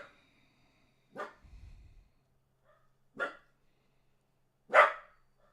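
A dog barks three times at spaced intervals, sharp and fairly close, with quiet pauses between barks and a brief low rumble after the first.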